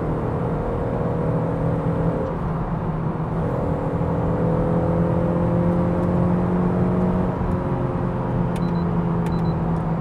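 Toyota GT86 engine dropping gears at around 90 km/h, a steady loud drone with rising and falling tonal sweeps as revs shift, continuous throughout with no talk.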